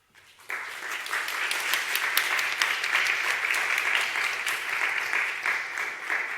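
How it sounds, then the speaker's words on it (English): Warm round of applause from a conference audience welcoming a plenary speaker, breaking out suddenly after a brief quiet start and holding steady, dense and fairly close throughout. "So let's all welcome Jack with a warm round of applause."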